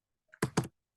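A few quick keystrokes on a computer keyboard, two close bursts of clicks after a faint tap, near and alone in a quiet room with no talking.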